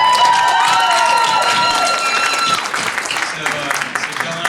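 An audience in a legislative debate hall applauds and cheers loudly for several seconds, a dense wash of clapping that begins at full strength and slowly thins and scatters toward the end.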